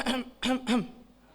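A pastor at a Sunday church service coughs or clears his throat three times in quick succession, close and voiced, then falls quiet.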